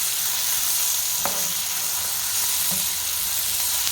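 Onions, tomatoes and almonds sautéing together in a pan for Telangana mutton curry, a dense steady sizzle up close with a couple of brief spoon taps.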